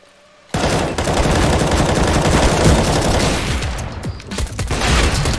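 Rapid gunfire from a CS:GO match erupts suddenly after a quiet moment and continues as a dense, loud barrage of shots with brief pauses, close and sustained for several seconds.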